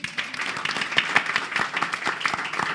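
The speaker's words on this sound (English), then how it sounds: "Definitely worth a round of applause" An audience applauds a panel at a TEDx Bristol Q&A session, with dense, moderately soft clapping holding steady for a few seconds.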